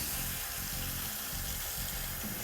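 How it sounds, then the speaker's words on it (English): Water running from a tap into a bowl of mussels, a steady splashing rush with soft gurgling, close and continuous with no talk. "Now we're going to soak these with some water."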